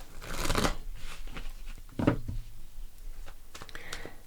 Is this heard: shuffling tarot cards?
yes